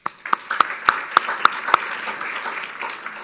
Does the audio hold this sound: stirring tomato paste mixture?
no